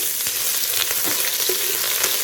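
Ginger garlic paste sizzling in hot oil with golden browned onions for mutton pulao, a steady crackling fry with occasional soft stirring scrapes, close and alone.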